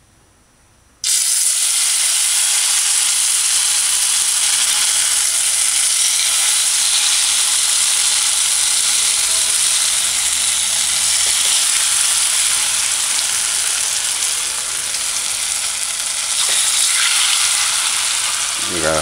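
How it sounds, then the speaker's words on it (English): Cassava flatbread (bammy) hits hot oil on a stove set to high and breaks into a loud, steady, hissing sizzle that carries on unbroken for about eighteen seconds. "you gotta allow it to fry on one side"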